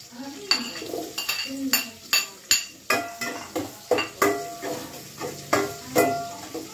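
Onion and garlic sauté in a pan for chicken sinigang, heard as a series of sharp metal clinks and scrapes from a utensil stirring against the pan, repeating every half second or so over a light, soft sizzle.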